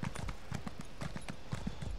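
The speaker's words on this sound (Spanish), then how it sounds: "Entramos con nuestro caballo." A horse in The Elder Scrolls Online trots across sandy desert ground, its hooves clip-clopping in a quick, steady rhythm, close and clear.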